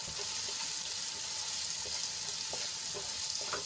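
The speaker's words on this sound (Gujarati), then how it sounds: "ડુંગળીને આપણે ગુલાબી રંગની થાય ત્યાં સુધી સાંતળી લેવાની છે" Finely chopped onions sauté in hot oil until they turn pink, a soft, steady sizzle with occasional scrapes of a spoon stirring them. The sound is fairly faint and close, with no talking.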